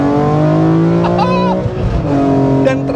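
A BMW M3 E46 CSL engine revs loudly up close, its rising and falling harmonic whine dominating throughout, with brief tire squeal and a voice speaking over it.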